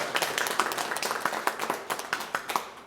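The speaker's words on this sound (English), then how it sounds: "So big round of applause for them." A crowd at a community guaranteed-income program event claps, with scattered individual hand claps rather than a dense roar, moderately quiet and brief.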